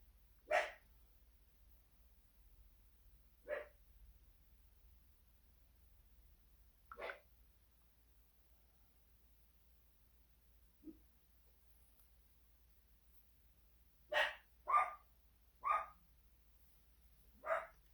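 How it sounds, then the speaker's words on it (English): A dog at home barks in short, sharp bursts, single barks spaced several seconds apart before a quick cluster of four near the end, each clear against a quiet room with no talk. "he knows that I'm on live, so he will start barking"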